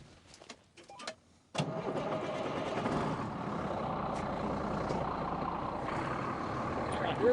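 A semi truck's diesel engine starts during a soybean harvest: a few brief knocks and clatters, then the engine catches and settles into a loud, steady, rumbling idle close by.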